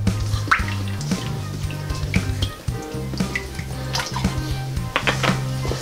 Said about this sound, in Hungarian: Na, jó forró a serpenyő, mehet az olaj benne.